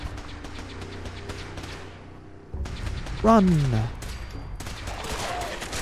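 Rapid bursts of gunfire in a Fallout 4 battle against ghouls, loud and dense, with a sharp swell of shots midway over ongoing game sounds and someone talking briefly.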